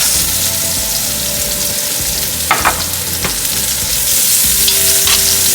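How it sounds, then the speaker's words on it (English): Onions sauté in the same pan used to cook pork chops, giving a loud continuous sizzle and frying hiss with a few stirring scrapes and clinks, up close and without talk. "the same pan, we are sauteing our onions"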